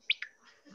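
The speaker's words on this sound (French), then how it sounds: "Oh, les petits oiseaux." Small birds chirping, two quick, bright close chirps followed by faint softer sounds in a short quiet moment.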